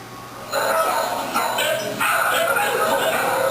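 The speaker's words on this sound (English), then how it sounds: "At the main SPCA shelter, kennels filled with dogs, some still shaking from their experience." Dogs bark and yip in a row of kennels at a main SPCA animal shelter, the barking dense and continuous, close and loud.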